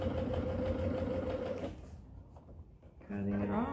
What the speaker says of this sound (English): Sewing my 1/4 inch seam.